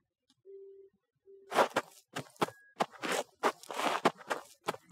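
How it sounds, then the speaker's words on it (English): Character footstep effects in an Unreal Engine 5 third-person game: a quick, steady run of crisp, close steps, loud and regular, following a couple of brief tones, with no talking. "we added footstep sounds, sound effects to our player character"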